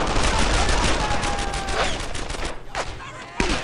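Gunfire in the World War II shooter game Brothers in Arms: Earned in Blood, a dense loud fusillade of rapid shots and bursts that thins out toward the end, with brief whizzing effects.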